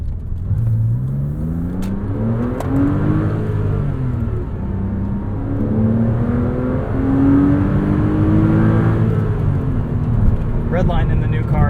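A Porsche flat-six engine in a Cayman revs up and down continuously, its pitch rising and falling, with a mechanical, induction-heavy growl close by; a voice talks faintly underneath.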